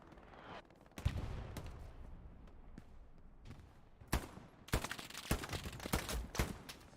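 Machine-gun fire and scattered gunshots in the World War II shooter Hell Let Loose during a competitive match, arriving in sharp bursts and short rattling volleys at varying distances, with denser clusters of shots toward the end.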